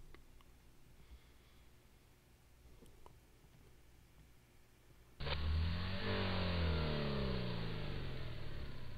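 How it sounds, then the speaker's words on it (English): A car in a video game drives away: after several seconds of quiet background, a loud engine starts up abruptly and revs, its pitch climbing steadily as it accelerates, holding loud to the end. "Car drive away."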